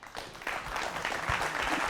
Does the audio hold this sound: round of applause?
yes